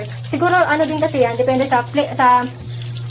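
Tap water rushes steadily into a Hanabishi 4.5 kg automatic washing machine under a low hum, while a person talks over it in Tagalog.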